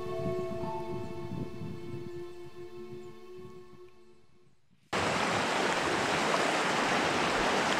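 A class 2 river rapid in the northern wilderness, a loud, dense, unbroken roar of white water that cuts in abruptly after a quieter humming stretch and holds steady.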